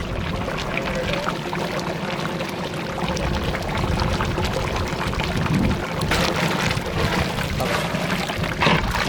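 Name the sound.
water being poured into pot for pepper chicken biryani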